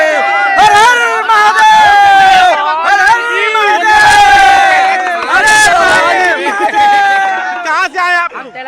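Pilgrims throng the Vishwanath temple ghat at Godowlia in Varanasi during the Mahakumbh, their loud overlapping voices rising and falling as the crowd chants and shouts continuously.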